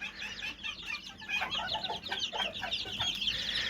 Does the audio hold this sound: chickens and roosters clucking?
yes